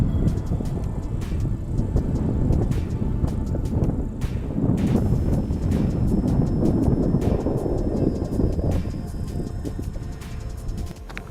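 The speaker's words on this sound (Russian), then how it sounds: "ветер вообще сегодня сильный" Strong wind buffets the microphone on a long road trip through open fields, a steady loud roar of gusts and rumble continuing throughout with no speech.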